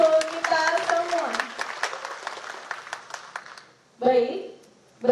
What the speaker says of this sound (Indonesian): Boleh tepuk tangan untuk kita semua.